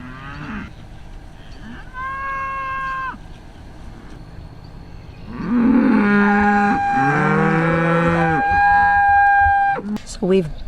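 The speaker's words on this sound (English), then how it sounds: "I actually need to count the cows, and here they come." Several cows moo one after another, close by, with long, drawn-out calls that overlap toward the end amid outdoor background noise.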